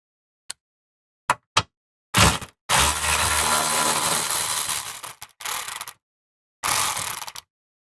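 A hydraulic hose clamp is being removed with a ratcheting tool. A few sharp isolated clicks lead into a long, loud ratcheting burst, then several shorter ratchet bursts with pauses between them, close by and with no talking.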